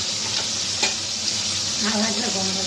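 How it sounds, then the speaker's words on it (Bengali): Steady sizzling of fish frying in hot oil, a constant hiss with faint stirring clicks, no talking. "মাছগুলো একটু ভালো করে ভেজে নেব।"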